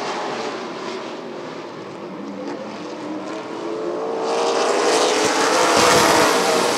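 Late model stock cars race around Rockford Speedway, a continuous loud engine roar that swells as the field draws nearer toward the end, with no talking.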